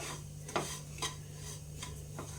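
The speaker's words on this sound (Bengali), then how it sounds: "এই যে এইভাবে ভেজে নিতে হবে।" Lobongo lotika sweets fry in ghee in a pan, with a soft steady sizzle underneath and several separate scraping strokes of a stirring utensil, quiet and close.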